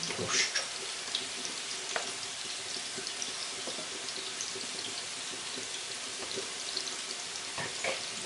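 A hand-formed potato burger patty fries in a hot, preheated pan, giving a steady close sizzle and crackle with a few louder spits and pops, and no one talks.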